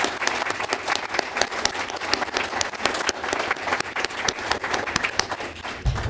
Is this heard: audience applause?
yes